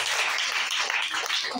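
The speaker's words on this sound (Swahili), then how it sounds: "Ndio Bwana makofi mazuri." Scattered applause and clapping from a church audience during a sermon, a brief, fairly faint patter of hands with no voices over it.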